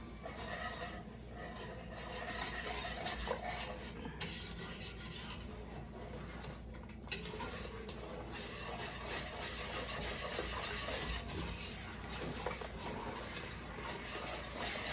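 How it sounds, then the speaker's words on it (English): Sugar, lemon juice, egg yolks and whole eggs being whisked together in a bowl for lemon curd, a steady, continuous scraping and swishing that stays close and even throughout, with no talking. "before we turn the heat on, we're gonna whisk this together"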